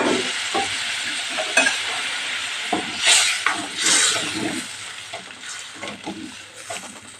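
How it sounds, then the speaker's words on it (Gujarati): Chana dal is tipped into a pan of cooked spice paste and sizzles loudly, with stirring scrapes and bubbling hiss swelling in short surges before easing off. "આપણે દાળ નાખી દઈએ।"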